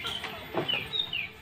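A chicken clucks a few short, bright calls over a steady background hiss, fairly close and moderately loud.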